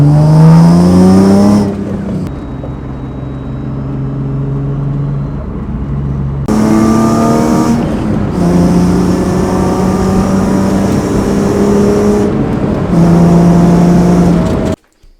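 A BMW E36 with a freshly installed small-case differential accelerates through the gears on the road, its engine loudly rising in pitch with each pull before dropping at the shifts, heard from inside the car.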